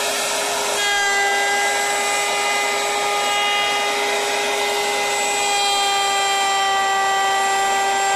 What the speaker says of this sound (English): now let's head to the router table.